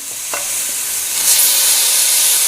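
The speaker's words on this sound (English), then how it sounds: "we're just going to stir this all up again" Crocodile meat with tomatoes and seasoning sizzles loudly and steadily in a frying pan while being stirred, with a couple of soft scraping knocks early on and no talking.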